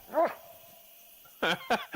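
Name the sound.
dog barking, from a hunting video game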